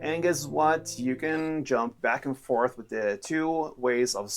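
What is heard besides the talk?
No everyday noise stands out behind the speech.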